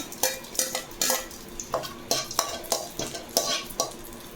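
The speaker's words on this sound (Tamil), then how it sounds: "வேறு சட்டியில் பாத்திரத்தில் எண்ணெய் ஊற்றிட்டு அஞ்சதும் கறி மசாலா பட்டை," Curry spices and cinnamon frying in hot oil in a pan, with a close, regular series of metal spoon scrapes and clinks over a soft sizzle and no talking.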